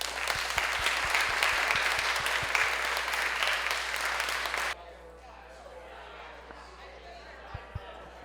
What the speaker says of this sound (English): I think we should give Louis another round of applause.